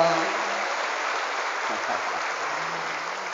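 Applause from an audience of hundreds of santri in an Islamic boarding school hall during an evening motivational seminar, a dense, steady wash of clapping heard from within the room, continuous and even throughout.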